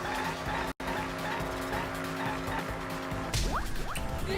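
Car tires skid and squeal in a video game racing minigame from Danganronpa V3, a steady engine whine under repeated sliding screeches, with a sharper squeal near the end.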